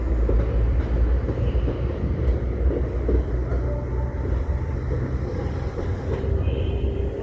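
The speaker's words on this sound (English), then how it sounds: "We now have a class 195 departing Leeds as an LNER Azuma service to Doncaster, I believe, pulls into the station now." A class 195 diesel multiple unit pulls into a station, its rumbling engine and rolling wheels sustained and loud across the whole stretch with no talk.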